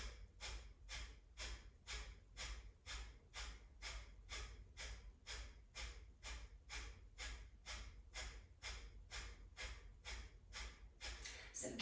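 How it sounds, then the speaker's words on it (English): Breath of fire breathing exercise: about two dozen sharp, forceful sniffing exhales through the nose in a quick, even rhythm, close and steady throughout with no talking. "Sniff breaths through the nose."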